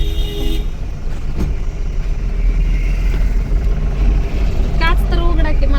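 Steady road traffic rumbles with a vehicle drawing up close, a short horn toot sounding near the end over the continuous engine and tyre noise.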